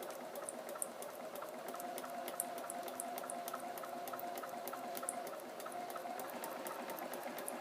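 A sewing machine runs a steady quarter-inch straight seam along a marked line on paper during a sewing drill, a continuous even whir with fine rapid stitching ticks, fairly quiet and unbroken throughout.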